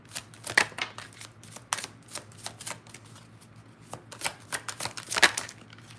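An oracle card deck is shuffled by hand in a quiet room, with a series of crisp, riffling card flutters and soft taps in irregular bursts. There is no talk.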